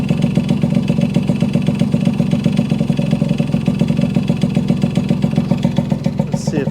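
A 1974 Yamaha RD60 motorcycle idles close by, its small engine putting out a fast, even, rattly putter at a steady level for the whole stretch.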